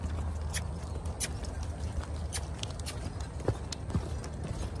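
An Arabian horse lopes on a lunge line, its hooves giving soft, irregular thuds and clops against a steady outdoor rumble, faint and at a moderate distance.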